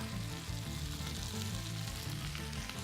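Steady, close sizzling of garlic in a hot pan, a continuous crackling hiss with no talking.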